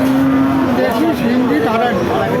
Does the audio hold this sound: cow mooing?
yes